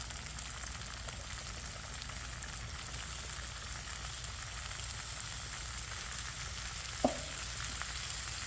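Pork and broccoli stir fry sizzles steadily in a pan with teriyaki-style sauce, a constant bright frying hiss throughout, with one sharp clink of a utensil near the end and no talking.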